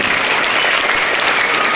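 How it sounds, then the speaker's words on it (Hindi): An audience at a cultural program at Raj Urdu Primary School in Nanded claps for a children's performance, giving dense, steady, loud applause with no pauses. "इनके लिए जोरदार ताली बजाओ"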